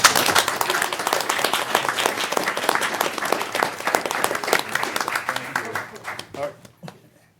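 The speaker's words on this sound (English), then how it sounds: "give these fine folks a round of applause for the great work" Sustained applause from a crowd, dense steady clapping that thins out and fades to a few scattered claps at the end.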